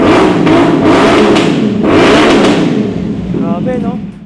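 A 2024 CFMoto 450 NK motorcycle with an aftermarket pipe and 270-degree crank revs hard several times, loud and close, with a person talking over the blips.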